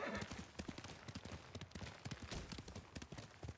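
Rapid, steady clip-clop of a galloping horse's hooves in Ghost of Tsushima, close and fairly loud, with a dense wash of other game sound underneath.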